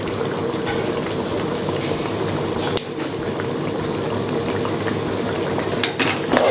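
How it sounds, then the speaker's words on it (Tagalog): Beef mechado with tomato paste and oyster sauce frying in a pan, a continuous dense sizzle and bubbling with occasional louder crackles and stirring scrapes, close and steady, no voices. "Lutuin lang natin ang ating tomato paste"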